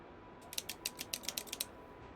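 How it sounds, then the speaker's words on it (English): A Momo racing wheel gives a quick run of about ten sharp mechanical clicks in an even rhythm, close and crisp over a quiet background hiss. "What do you think of this clicking noise?"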